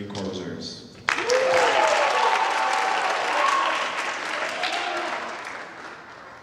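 A high school orchestra concert audience breaks into loud, sustained applause for graduating seniors, a sudden burst of clapping that holds steady with a few faint voices mixed in.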